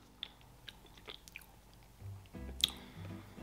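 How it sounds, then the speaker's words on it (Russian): Quiet, close-up chewing of Belgian chocolate-coated curd snacks with condensed milk, scattered crisp crunches and bites, a few sharper snaps standing out against soft mouth sounds. "Хрустит это шоколад бельгийский"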